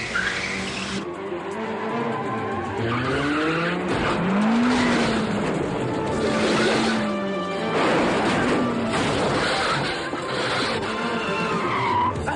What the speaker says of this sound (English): 4 identical brand new Mitsubishi sports cars were shipped to South Africa and Holland for Jackie to crash at will.